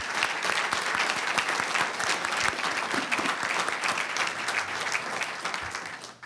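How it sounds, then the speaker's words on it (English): A warm round of applause from the audience at a county board reception honoring a district police department, steady dense clapping filling the room throughout before tapering slightly at the end. "please stand so that we can acknowledge you with a warm round of applause"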